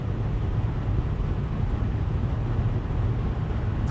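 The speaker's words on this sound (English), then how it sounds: "So using this health and safety-ometer here, let's find out how noisy the diesel is, okay? Let's just build it up to 70." A BMW 535d E60 diesel engine builds revs, giving a steady, muffled low rumble heard from inside, continuous and moderately loud with no talking.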